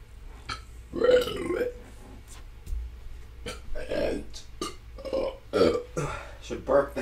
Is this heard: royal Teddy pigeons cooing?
no